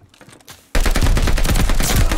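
Sustained automatic gunfire in Call of Duty Vanguard erupts after a brief quiet stretch, loud and dense rapid bursts continuing to the end.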